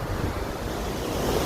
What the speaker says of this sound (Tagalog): Ayan yung alon, yung taas ng alon ngayon.